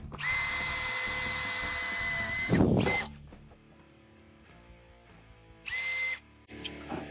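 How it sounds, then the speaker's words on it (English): A power drill with a 1/8 inch bit whines at high speed drilling holes in metal floor panels of a 1958 Ford F100, then stops, followed by clanks and rattling, then another short burst of drilling. "So now it's just going and drilling our holes."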